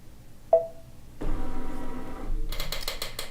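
Baby Lock longarm quilting machine stitching an edge-to-edge pattern over existing quilting: a sharp click, then a steady mechanical whir that picks up a rapid rhythmic pulsing near the end, close and moderately loud.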